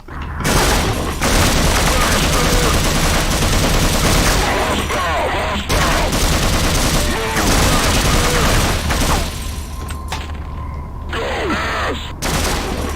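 Enemy gunfire in a Unity demake of Half-Life, dense rattling bursts that run almost without a break and then thin into scattered shots and clanks, with a voice speaking now and then.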